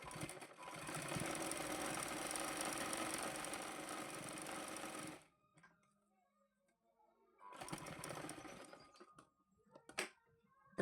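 Close, loud stitching from a sewing machine along a blouse seam runs for about five seconds, then pauses, followed by another shorter burst and a few clicks of the mechanism.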